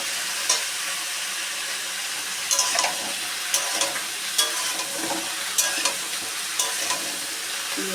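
Mixed vegetables, cauliflower, potato, beans, carrot, eggplant and pumpkin, sizzle in a frying pan, with a spatula scraping and stirring them in regular strokes over a constant close hiss.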